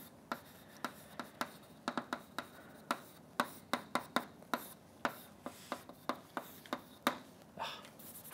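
Marker or chalk strokes tap and scratch on a board during an algebraic geometry lecture, a quick irregular run of sharp close taps and short scrapes with no speech.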